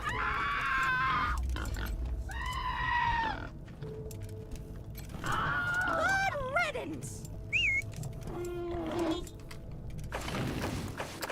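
Pig grunts and squeals from the video game Wasteland 3, several varied calls in quick succession over continuous game background sound, fairly loud and close.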